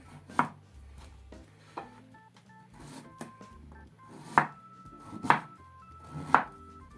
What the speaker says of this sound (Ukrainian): Нарізаю селеру.